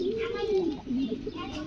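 Black satinette pigeons coo softly at a farm, a couple of low, wavering coos close by against a quiet background.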